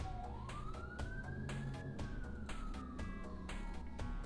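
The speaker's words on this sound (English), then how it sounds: "Sorry for the sirens." An emergency vehicle siren wails outdoors, rising and falling in a long sweep, faint and steady in the distance beneath a constant rhythmic background clicking.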